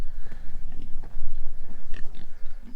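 Pigs on a farm grunt and snuffle continuously at close range, with a few louder oinks breaking through a steady, busy stream of low grunting.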